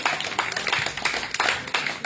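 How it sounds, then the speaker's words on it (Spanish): A church congregation applauds in a sustained burst of clapping, dense and fairly loud, with steady rhythmic pulses running through the crowd noise. "Denle un aplauso a Jesús."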